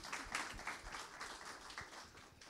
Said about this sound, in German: Ein Applaus für Herrn Trebling, bitte